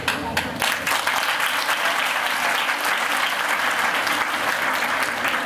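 An audience at a spiritual discourse by Swami Govinda Dev Giri Ji Maharaj claps steadily and loudly throughout, a dense, even wash of many hands with no pauses.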